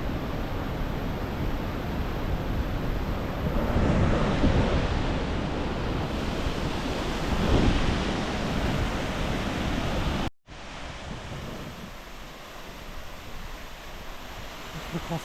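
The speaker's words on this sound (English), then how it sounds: "You can see the beautiful waterfall and the pool." Waterfall and pool beside the Everest Base Camp trail between Monjo and Bangkar: a steady broadband roar of falling water fills the whole clip, swelling slightly midway, with a brief dropout near the end.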